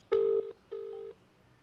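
Two electronic telephone keypad tones while dialing, one after another with a short gap, clear and close, with no talking.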